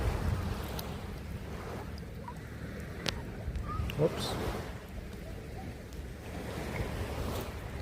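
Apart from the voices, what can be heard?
shower water running while rinsing off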